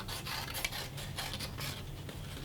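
Scissors cutting out a thin cardboard bug body from a cracker box, a steady close rasping and scraping of blades through the card, continuous with small snips, no talking.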